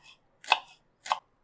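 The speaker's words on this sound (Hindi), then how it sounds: "साथ में बारीक चॉप की हुई हरी मिर्च" A knife chops finely through green chillies on a board: three crisp, separate strikes spaced about half a second apart, close and clean with no talking.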